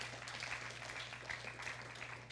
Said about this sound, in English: Give the Lord a clap offering, everyone.